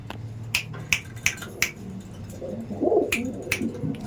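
Black diamond pigeons in a loft give a soft, low cooing burst near the end, after several sharp clicks or wing claps scattered through the first seconds, all close by and with no talking.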